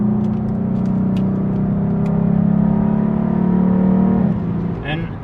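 Bigger sedan cornering with sharp throttle response, heard as a loud, steady engine drone that holds its pitch through the turns, then drops off near the end, with a voice talking over it.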